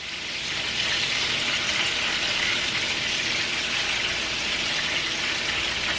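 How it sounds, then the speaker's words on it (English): Turkey burgers fry in a pan with a steady, close, loud sizzle that holds evenly throughout, with no voices over it. "I'm going to add in the last 2 burgers"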